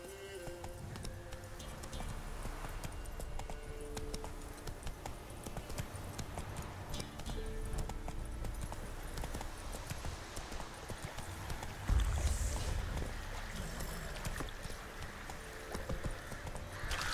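Horse hooves galloping in The Witcher 3, a quiet, steady clip-clop rhythm running throughout with faint game ambience beneath and one brief bump partway through.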